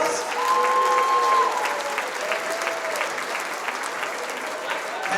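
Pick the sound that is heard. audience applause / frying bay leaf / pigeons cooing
audience applause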